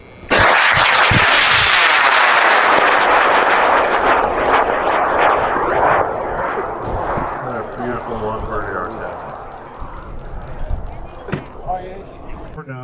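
A high power sport rocket lifts off at a rocketry launch in Alamosa, its motor giving a loud, sustained roaring rush that slowly fades as the rocket climbs away, with crackles and voices over the tail end.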